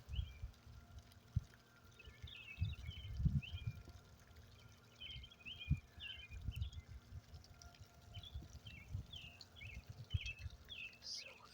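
A sump pump discharging water outdoors: low gurgling, pouring surges come and go, while birds chirp faintly in the background throughout.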